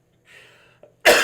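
A single short, harsh cough bursts out near the end after a faint breathy lead-in, loud and close.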